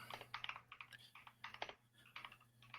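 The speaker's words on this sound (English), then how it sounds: "I'm typing my ass off" Quick, irregular bursts of typing on a computer keyboard, close and fairly quiet, with a low steady hum underneath and no speech.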